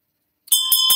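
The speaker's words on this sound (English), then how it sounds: "then you have to ring the bell." A Buddhist ritual bell rings after a Dharma offering recitation, a clear bright metallic ring starting abruptly from silence, struck again twice with sustained shimmering overtones.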